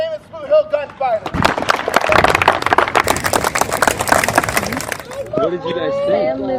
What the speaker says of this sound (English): Got a round of applause for the world-famous Boot Hill Gunfighters.